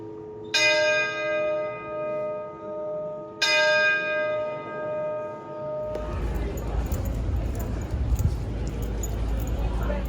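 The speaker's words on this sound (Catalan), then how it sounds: "cada cop que és l'hora en punt toca una campaneta mentre obre la boca" Two clear ringing strikes of a small bell on an automaton clock inside Burgos Cathedral, each sustaining with bright overtones, followed by loud crowd murmur and footsteps in a large echoing space.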